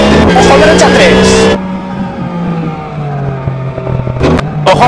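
An Alpine A310 rally car in Richard Burns Rally, its engine revving hard and loud up close, then dropping to a lower drone as it eases off before roaring again, with a co-driver voice calling notes.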